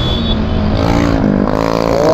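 A scooter with its silencer removed blares a loud, raw exhaust close by, its engine note climbing as it revs.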